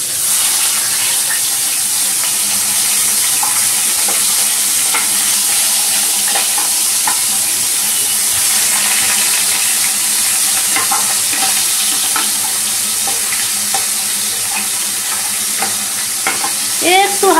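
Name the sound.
basa fish lightly sautéing in a pan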